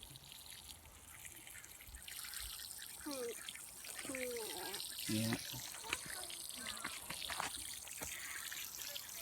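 Water trickling steadily from a hose while giant pumpkins are watered outdoors, a soft continuous flow with a brief voice over it.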